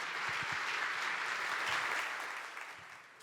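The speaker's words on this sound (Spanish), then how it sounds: "vamos a recibir con un fuerte aplauso al ex ministro de Hacienda" An audience at a fintech forum claps steadily as a former finance minister is welcomed onto the stage. The dense applause holds throughout and fades slightly toward the end.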